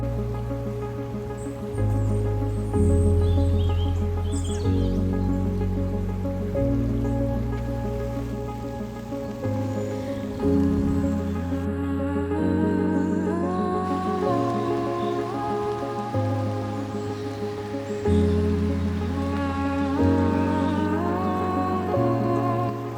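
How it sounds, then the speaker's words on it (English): Steady rain patters on leaves, continuous and close, with a low droning tone shifting underneath. "But it's raining."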